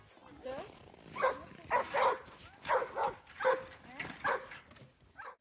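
Several dogs from a pack of eight on a rural peninsula homestead in Finland bark and whimper in a run of short, close, fairly loud yelps and whines with brief gaps between them.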